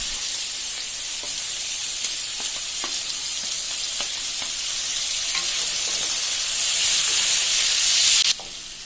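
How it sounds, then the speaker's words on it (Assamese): Whole cumin seeds and chopped onions fry in the oil left from frying fish, giving a loud, continuous sizzle with faint crackles and a brief louder hiss near the end. "মাছ ফ্ৰাই কৰা তেলখিনিতেই প্ৰথমতে গোটা জিৰাকেইটা দি ফুটুৱাই ল'ব। তাৰ পাছত কাটি লোৱা পিঁয়াজখিনি দি দিব।"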